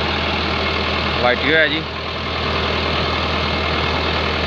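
A tractor engine idles steadily on a farm in Pakistan, a constant low rumble running through the whole clip, with a brief spoken phrase near the start.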